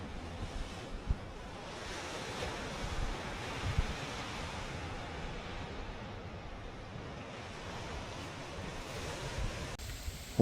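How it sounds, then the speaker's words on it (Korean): Ocean waves on the Yakushima coast in Japan: a steady, broadband wash of surf with gentle swells, mixed with wind noise on the microphone. It sounds continuous and moderately close, with no voices. "바다 소리 좋네."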